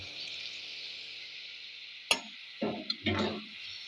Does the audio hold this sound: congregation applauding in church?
no